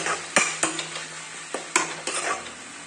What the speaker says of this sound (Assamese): তাৰপিছতে আকৌ মই লৰাই দিম